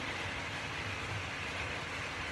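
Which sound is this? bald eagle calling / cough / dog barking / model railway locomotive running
model railway locomotive running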